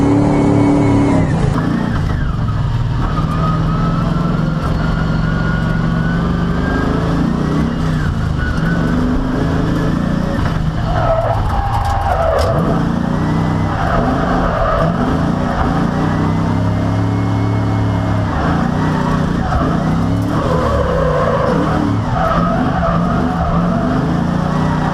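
A Nissan S13 with a stock LS1 V8 drifts around a track, engine roaring and revving in surges as the tires squeal and skid, loud and continuous with no talk.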